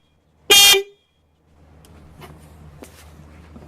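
A large aftermarket car horn sounds once, a loud, brassy honk lasting about half a second close by, followed by quiet ambient noise with a few faint clicks.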